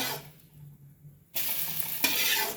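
Pieces of egg omelette fry in oil with a bright sizzle that drops off briefly, then surges back loudly and close as the pieces are stirred and moved in the pan.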